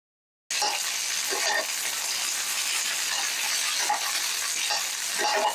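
Loud, steady sizzling of mustard seeds and chopped shallots frying in hot oil, with a few soft stirring scrapes breaking through the crackle.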